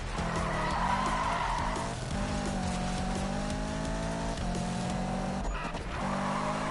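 A car drifting in Destiny, its engine droning steadily while the tires skid and squeal through long sliding turns, loud and close with no talking.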